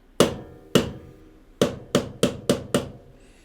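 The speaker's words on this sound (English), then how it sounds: "simply taking the hammer and then just hitting it, and you don't need a lot of force." Hammer tapping a drill bit set on a harmonica rivet, seven sharp metallic strikes in an uneven rhythm, close and clear with no talk.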